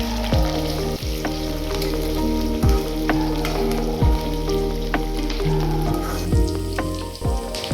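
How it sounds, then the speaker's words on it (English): Onions sizzle steadily in a hot pan as they stir-fry, with repeated clinks and scrapes of a utensil stirring them at an uneven rhythm. "Add some onions, stir fry it well until it becomes a pinkish in color"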